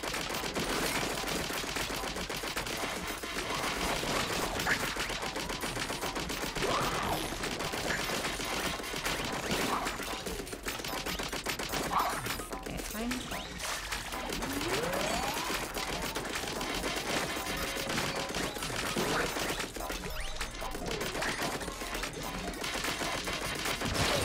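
Enemies fire ink weapons at the player in Splatoon 3 Side Order, a continuous dense rattle of rapid shots and splats lasting throughout at steady loudness.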